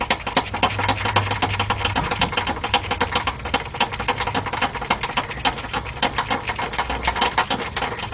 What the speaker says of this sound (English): You can use your air gun if you want,